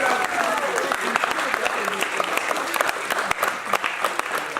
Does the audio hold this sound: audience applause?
yes